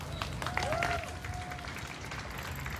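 An audience clapping at an outdoor comedy show in Amsterdam's Westerpark, a thin scattered patter of hands at moderate distance, with a brief whistle-like tone partway through and no speech.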